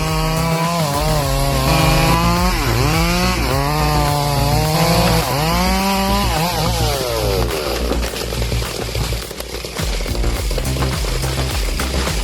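A Stihl MS 382 chainsaw revs and cuts through a large tree, its loud close engine whine rising and falling repeatedly as it bogs into the wood, then settling into rougher cutting.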